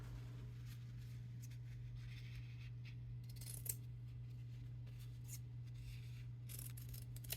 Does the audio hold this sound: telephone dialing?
no